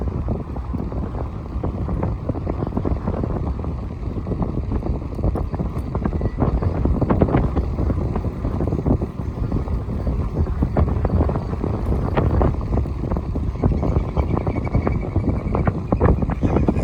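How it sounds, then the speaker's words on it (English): Strong wind buffets the microphone at a river-mouth shore, a loud continuous rumbling roar with gusty surges throughout. "the wind is cranking"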